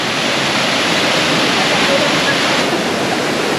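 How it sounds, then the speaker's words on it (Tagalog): Bira-Bira Falls in Cawag, Zambales roars with a loud, continuous broadband rush of falling water, steady and close, with no break in the noise. "At yan ang Bira-Bira Falls guys."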